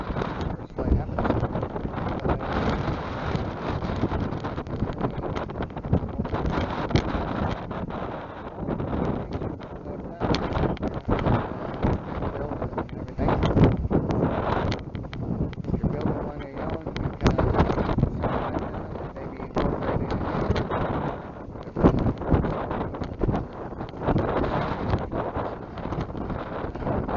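Strong wind buffets the microphone outdoors at an airfield where a Zenith 701 floatplane waits, a loud continuous roar with gusting surges throughout.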